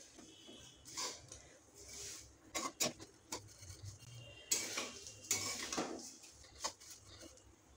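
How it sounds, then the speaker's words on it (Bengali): Vermicelli frying in ghee in a pan is stirred for Eid jorda semai, giving intermittent metallic scrapes and clinks of a utensil against the pan, close and fairly quiet, with soft sizzling between strokes and no talk. "এবারে এটাকে ভালো করে নেড়ে নেব চারিদিক দিয়ে"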